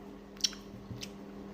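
Someone chews peeled cola jelly close to the mic, giving a few soft squishy bites and faint clicks, quiet and brief with no talking.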